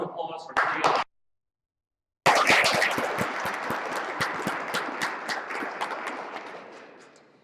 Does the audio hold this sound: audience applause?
yes